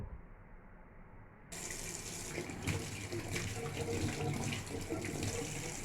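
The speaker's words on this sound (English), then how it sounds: "So I'm going to wash my hand as usual." Tap water runs steadily into a sink as hands are washed before making homemade Nigerian chin chin, starting softly and then growing to a fuller, continuous gushing stream close by.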